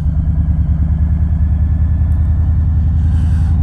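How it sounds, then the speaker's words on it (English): A 2018 Harley-Davidson Low Rider FXLR motorcycle engine rumbles loud and close with a steady, throbbing low-pitched beat while riding on the road. "Okay, he didn't like the noise of the bike."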